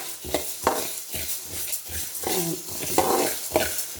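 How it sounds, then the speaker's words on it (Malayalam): Coriander seeds dry-roasting in a pan and stirred, with a dry rattling scrape and a faint crackle that return in short bursts roughly every half second, close and clear. "മല്ലി വറുത്തുന്നുണ്ട്."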